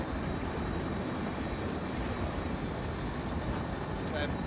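A Bi-Level Cab Car commuter train on the Peninsula Corridor in Train Sim World 2020 rumbles steadily while slowing, with a dense rolling roar and a high wheel squeal that fades away.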